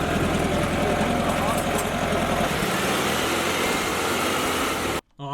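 An old-school bus engine idles with a steady low throb and a rumble that shifts midway, then cuts off abruptly near the end, with voices chatting throughout.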